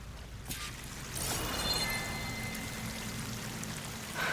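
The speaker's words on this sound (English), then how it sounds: "That waterfall must be coming from somewhere." Steady rushing, splashing water from a waterfall in the video game Horizon Forbidden West, a continuous broadband wash that swells after a brief quieter start and holds level with no talk.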